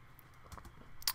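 Typing on a computer keyboard while editing a WordPress theme tagline, a few soft scattered keystrokes followed by a brighter cluster of clicks near the end, quiet and close.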